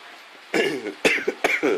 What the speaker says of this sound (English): Oh, bad cough today.